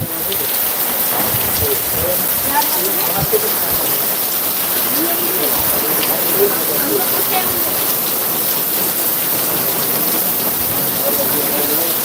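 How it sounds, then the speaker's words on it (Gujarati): Heavy rain pours down in a dense, steady hiss of countless drops drumming on surfaces, loud and unbroken throughout, with a voice speaking over it. "વરસાદનું પ્રમાણ થોડુંક વધતું જાય છે એવું લાગે છે"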